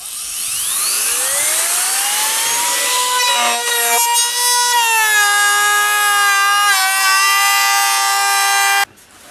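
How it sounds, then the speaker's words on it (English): A router with a half-inch offset bit cuts a resonator-cone recess into a dobro guitar body, giving a loud, sustained whine whose pitch rises and wavers, then stops abruptly near the end. "here we are routered out with the first cut"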